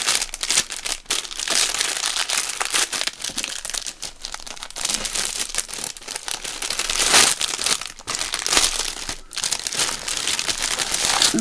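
Cellophane sleeves and plastic bags crinkle and rustle continuously as they are handled up close, with dense crackling bursts and brief pauses throughout.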